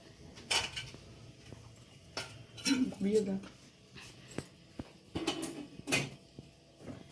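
Metal lid is set onto a pressure cooker holding idli, with a few close metallic clanks and scrapes of kitchenware spread across the moment while a person talks over them.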